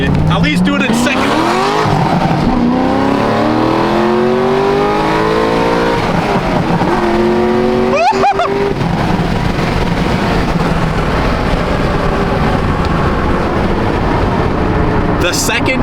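A BMW M4 accelerates onto a freeway, its engine rising through rising-pitch revs in loud, close pulls with a gear change and a brief sharp squeal, while people talk over it.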